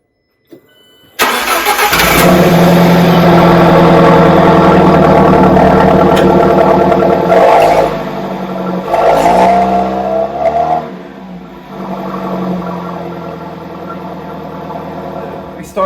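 Alfa Romeo 4C engine fired up after an oil change: a starter crank, a loud catch and rev, then a steady idle with a few throttle blips, heard close with some background voice.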